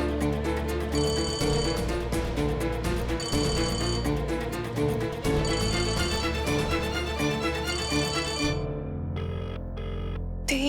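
A telephone bell rings in repeated loud bursts with brief gaps, over a steady musical score, then cuts off and the music continues alone.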